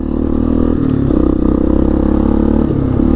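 A 1998 Yamaha Big Bear 350 4x4 ATV engine drones steadily at speed on a drizzly test drive, loud and close. Its low, even running note shifts as the gears change.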